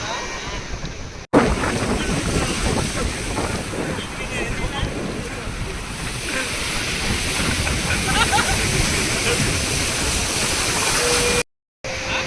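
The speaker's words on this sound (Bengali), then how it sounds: "তো এই হচ্ছে সমুদ্র, এসে গেছি, পুরো পা জলে ঢুকে গেছে, জলে ভীষণ টানছে।" Ocean waves at Puri beach, Odisha, wash in steadily as a loud, continuous roar close by, with gusting wind buffeting the microphone and brief dropouts.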